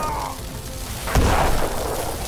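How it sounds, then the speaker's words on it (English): Grenades launched and exploding in the airship battle game Airships: Conquer the Skies, a single sharp blast over a steady hum of battle noise, which lingers after the bang. "Come on, launch some grenades at it."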